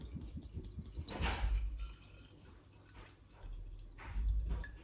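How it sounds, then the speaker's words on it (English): Vodka is poured into a bottle over cut vanilla beans at home, a soft close gurgle and trickle in two brief bursts with quiet handling between. "now it's just a matter of pouring the vodka over"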